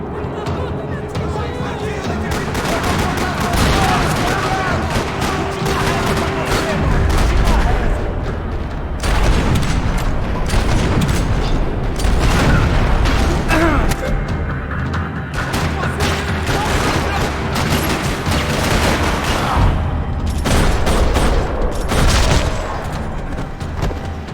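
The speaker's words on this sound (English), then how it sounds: "another parking lot rattling with gunfire" Rapid, chaotic gunfire and booms fill a parking lot shootout in Max Payne 3, continuous dense bursts with heavy low thumps, voices shouting under the shooting.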